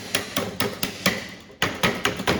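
A body hammer strikes sheet metal being formed into a Jeep XJ part, about ten sharp, close metallic blows at a steady, even pace with a brief pause midway.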